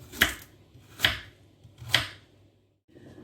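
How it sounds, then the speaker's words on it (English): A knife chops carrots into small cubes for Russian salad on a cutting board, giving three distinct, evenly spaced knocks about a second apart, close and clear, then a brief quiet. "now I'm going to start chopping the carrots"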